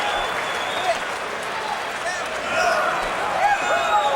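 Boxing arena crowd cheers with steady applause as a heavyweight fighter goes down in the eighth round, a dense, continuous roar that swells slightly toward the end.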